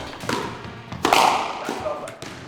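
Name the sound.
squash ball drives and drop shot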